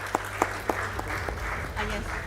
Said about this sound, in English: Ladies and gentlemen, the next award winner, please keep the applause going for Dennis Kengo Oka.